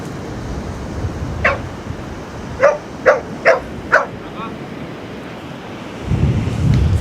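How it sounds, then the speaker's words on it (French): A dog barks several times on a beach, a single yelp and then a quick run of four barks, over steady wind and surf rumble outdoors. "Il y a un chien"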